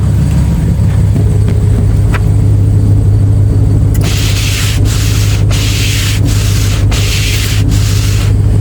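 Truck engine warming up after a cold start, a pickup with 187,000 miles: a steady low rumble holds throughout while brief bursts of scraping, rubbing noise come and go over it in the second half.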